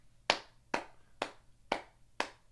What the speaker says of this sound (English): So now we're going to do a little clap test here.